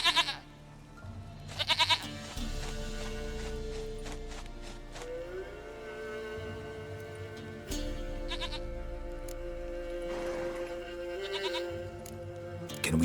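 Goat bleating in The Witcher 3, several short wavering bleats from a farm goat heard over a steady in-game ambient music bed with no talk.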